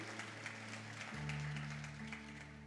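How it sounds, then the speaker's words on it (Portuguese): Church congregation clapping during a worship service, fairly faint and diffuse, with sustained organ or keyboard tones running underneath. "Você pode aplaudir a Ele, por favor."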